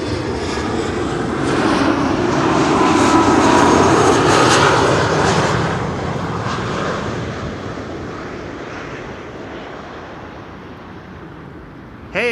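A Transavia Airbus A321neo airliner in retro livery comes in to land at Schiphol, its jet roar swelling to a loud peak mid-clip, then fading steadily into a lingering distant rumble.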